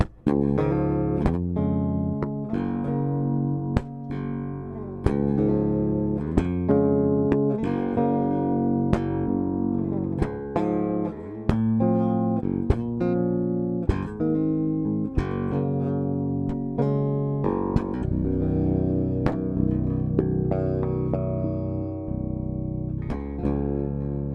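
Low, resonant plucked strings of an electric bass in an alternate tuning ring out in steady strummed and picked patterns, full and sustained, played alone up close.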